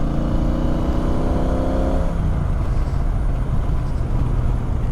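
Triumph Speedmaster motorcycle engine revving high, then the revs drop abruptly as the throttle eases, leaving a lower rough rumble; loud and close throughout.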